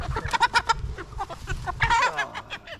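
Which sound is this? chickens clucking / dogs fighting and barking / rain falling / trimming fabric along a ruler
chickens clucking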